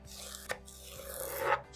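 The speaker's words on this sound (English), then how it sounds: "I'm just going to chop up a stalk of celery and a green onion" Knife slicing a celery stalk into strips on a cutting board, a few close, quiet cuts with a soft scraping drag between them.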